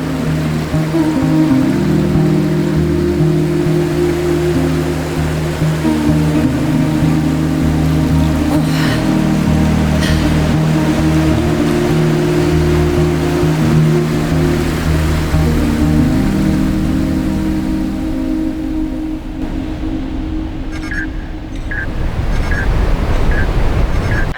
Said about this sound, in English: we come across a waterfall, and Ava decides it is time for a shit shower and shave